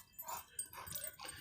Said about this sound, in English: those are our bull mastiff dogs